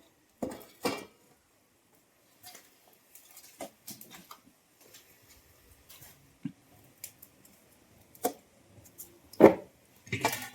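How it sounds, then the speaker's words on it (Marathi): An iron kadhai is set down on a second clay stove, with a few sparse knocks and scrapes rising out of near silence, the loudest thuds coming near the end. "आता ही कढई ठेवते मी इकडे दुसऱ्या चुलीवर."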